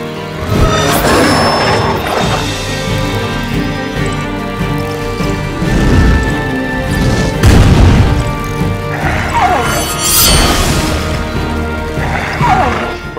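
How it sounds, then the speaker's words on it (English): Wildfire spell attack in the Child of Light video game, a loud, dense run of crashing booms and whooshing bursts layered over steady game music, with several heavy impacts across the stretch and no talking. "We could try wildfire on him."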